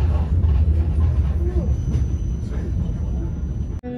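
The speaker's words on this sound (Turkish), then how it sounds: "tramvaydayız şu an" Riding inside a moving tram, a steady low rumble and rolling hum fill the car, with faint murmuring voices underneath and a brief clunk at the end.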